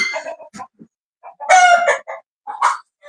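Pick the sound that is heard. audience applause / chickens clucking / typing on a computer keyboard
chickens clucking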